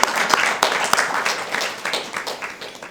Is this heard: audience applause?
yes